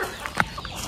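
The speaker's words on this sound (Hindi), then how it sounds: "चिकन भी बहुत सारे हैं" A few short clucks from chickens, mid-distance, scattered over faint outdoor background noise; no talking.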